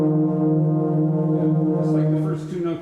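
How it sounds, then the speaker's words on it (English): Second baritone and euphonium in a band holding one long sustained note together, a steady, loud brass tone that fades near the end as a voice briefly starts over it. "Could I have the second baritone and the euphonium right at letter B?"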